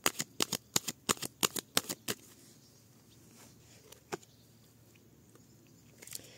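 Tarot cards are shuffled in a quick run of about a dozen crisp riffling snaps over two seconds, followed by near silence with a couple of faint isolated card flicks.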